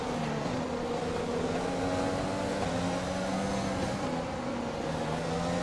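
Formula 1 car engines scream in a race at Japan in the F1 2020 video game, a loud, continuous high-revving drone with shifting pitch, heard alone without talk.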